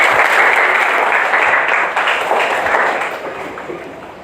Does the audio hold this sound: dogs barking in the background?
no